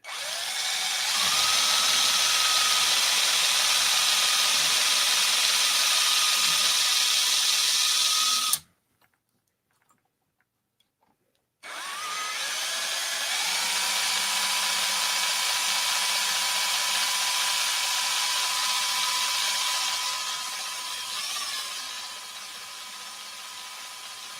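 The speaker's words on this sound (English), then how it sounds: "Probably not the most thrilling stream watching me drill things" A power drill whines loudly and steadily for several seconds, stops briefly into silence, then starts again and runs on at a steady pitch.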